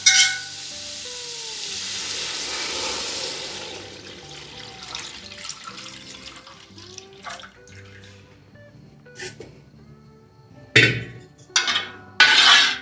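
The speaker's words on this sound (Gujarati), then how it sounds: "આપણે એને ઘીમાં સાતળ્યું છે અને હવે આપણે દૂધ નાખીએ છીએ" Milk poured into a pan of bottle gourd and barnyard millet already sautéed in ghee, with a steady hissing pour at first, then quieter bubbling and clinks of utensils toward the end, close and moderately loud.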